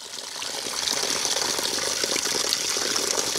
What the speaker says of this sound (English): You see how the water fills up?